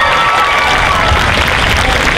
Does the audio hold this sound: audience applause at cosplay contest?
yes